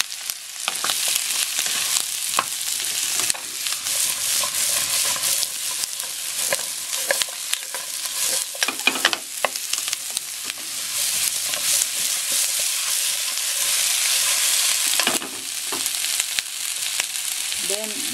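Meatballs sizzle and crackle steadily as they fry in a pan for sweet and sour meatballs, a continuous close hiss with occasional stirring clatter and no talk.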